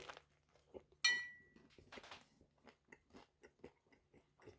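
Crunchy Sainsbury's vegan bacon rashers being chewed close up: one sharp crisp bite, then a steady run of crunchy chews, with no talk.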